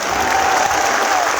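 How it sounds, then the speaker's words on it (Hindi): Steady, dense applause from a large rally crowd at a Gurjar community gathering, continuous clapping filling the whole moment without a break. "ताली इतनी दीजिए"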